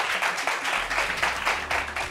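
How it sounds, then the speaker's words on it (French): Audience applause at a live French gathering on stage, a steady dense wash of clapping throughout with a faint low hum beneath and little speech. "Applaudissements pour ça"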